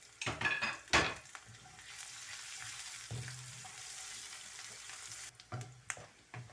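Garlic sizzling in hot oil in a pan, a steady hiss with a couple of sharp stirring clatters near the start and no voices.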